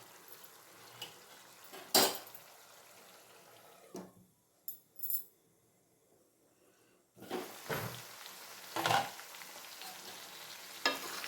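Spicy chicken frying in oil in a pan, the sizzle low and intermittent, with spatula scrapes and clinks against the pan. There is a quiet stretch in the middle, and the frying returns louder near the end.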